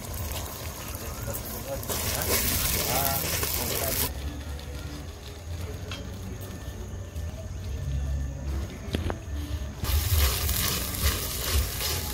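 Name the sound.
spiced water poured into a sizzling pan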